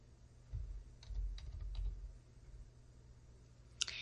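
Quiet, close computer-keyboard typing as a filter condition is entered in software, a short run of soft key taps followed by a single sharper click near the end.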